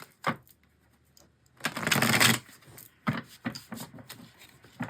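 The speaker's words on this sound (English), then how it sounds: "Let's give it one more shuffle." A deck of tarot cards is shuffled close up: brief taps and rubs, then a dense riffling burst of about a second, followed by a few soft card snaps.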